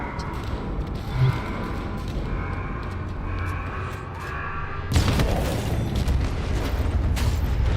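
The gun's generator explodes in Halo with a sudden loud boom and rumble that cuts in midway over humming game ambience, after a stretch of talking.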